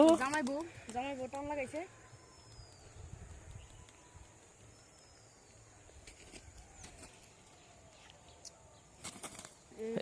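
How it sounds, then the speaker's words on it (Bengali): Pigeons taking flight from a village rooftop in the afternoon, with bursts of wing flapping at the start and again near the end, close and loud, while people talk and call out in the background. "কবুতর উড়াইতে ভালোই লাগে"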